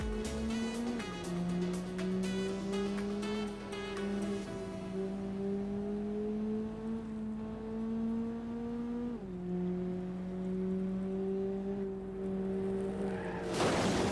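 Racing car in BeamNG Drive holds a steady high engine whine throughout, its pitch dipping at gear shifts, with a loud impact-like burst at the very end; no talking.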